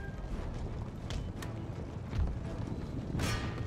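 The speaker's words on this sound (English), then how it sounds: "My regiment of horse engage the Grenadier Guards." Cavalry horses charging in the strategy game Empire Total War, a faint muffled rumble of hooves and battle noise with scattered clatters, low in level and somewhat diffuse.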